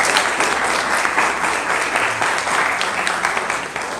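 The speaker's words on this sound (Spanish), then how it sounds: "le damos un fuerte aplauso" A crowd at a religious gathering about Our Lady of Guadalupe claps for Fray Tomás, with dense, sustained applause filling the whole stretch at close range and a faint voice underneath.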